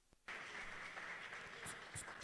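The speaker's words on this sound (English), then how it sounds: "A round of applause for him again as he makes his way to his seat." Applause from an audience at a youth and African economic development talk bursts in suddenly after a brief quiet moment, then continues as a steady, fairly close patter of many hands clapping with occasional sharper claps.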